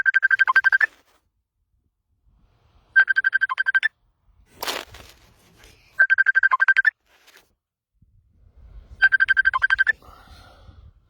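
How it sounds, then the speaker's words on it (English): A phone notification ringtone plays in four identical short electronic chiming bursts spaced about three seconds apart, clear and prominent against near silence, with a faint thump and soft rustling between them. "I didn't turn off notifications, spoiled the video"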